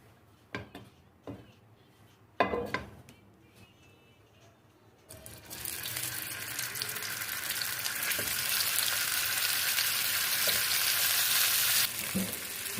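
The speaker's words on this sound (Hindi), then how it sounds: "ये देखिए सॉसेजेस जो हैं वो हमारे फ्राई हो रहे हैं।" Chicken sausages fry in hot oil in a pan; a few quiet knocks and handling sounds come first, then a loud, steady sizzle rises and holds close up, with no voices.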